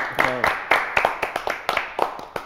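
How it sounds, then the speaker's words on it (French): Studio audience on a French television show clapping in short uneven bursts, with a voice speaking over the start. "On applaudit."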